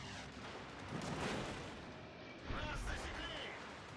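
Naval guns fire from a warship in World of Warships Legends, two heavy booming volleys about a second apart, loud and close, with a rumbling tail after each.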